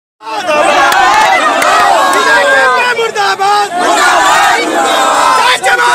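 An angry crowd shouts and chants together while blocking a road in Purnia in protest over severe waterlogging, with police present. The massed voices are loud, close and continuous, rising in repeated cries.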